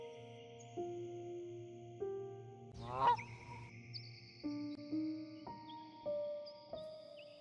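A swan or goose honks in a series of separate drawn-out nasal calls, one stronger and more strained honk in the middle, fairly faint and heard alone against a quiet background.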